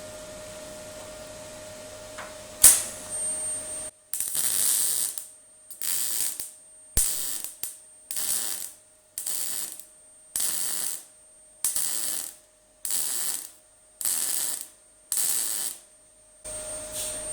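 Welding on MGB GT tailgate panels produces a regular series of short crackling, hissing bursts, roughly a dozen evenly spaced tack welds with brief pauses between them, loud and close with a steady background hum.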